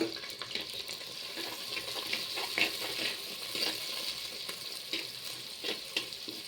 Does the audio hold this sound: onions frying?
yes